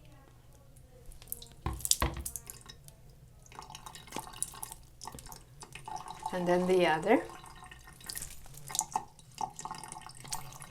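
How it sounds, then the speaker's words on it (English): Salty water splashes and drips from a face at a sink, with short watery splashes and trickles between spoken words and a quick burst of bubbling drops midway. "I just splash the salty water right into my open eye"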